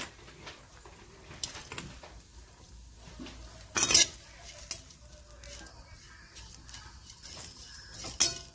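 Coconut roasting in a pan for a chicken curry masala gives a soft, low background hiss, broken by several sharp clinks of a utensil against the pan. A voice speaks intermittently over it.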